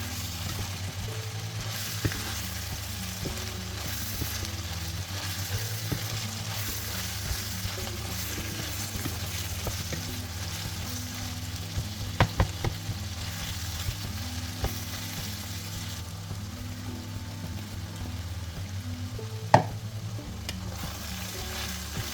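Six to seven cloves of diced garlic fry in a pan with a continuous, moderate sizzle, marked by occasional stirring clicks and scrapes, with no talking over it.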